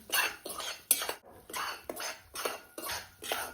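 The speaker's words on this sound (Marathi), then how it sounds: "रवा आपल्याला लाल सोनेरी कलर येईपर्यंत भाजून घ्यायचा आहे।" Semolina roasting in ghee on a wood-fired stove, stirred with a metal spoon in a pan: about seven rhythmic scraping strokes, close and fairly quiet, with no talk over them.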